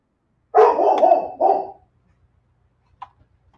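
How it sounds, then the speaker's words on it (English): A pet dog barks indoors in a short close burst of about three loud barks, followed by a single faint yip after a pause, then quiet. "You may hear my dog as my frequent"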